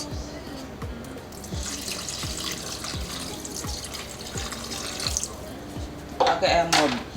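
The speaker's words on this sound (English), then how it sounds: "Adding a little water because we want the liquid to come just" Water runs steadily into a pot of beef neck bones for several seconds, then a louder splashing gush near the end, with faint periodic knocks underneath.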